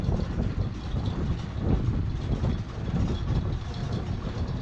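A Mahé 36 sailboat's engine runs in reverse during close-quarters maneuvering, a steady low rumbling drone that holds throughout with slight surges in level.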